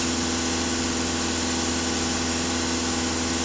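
A 2.0 TDI diesel engine runs under throttle with a dense, steady roar and hum, loud and close throughout, with no voices over it.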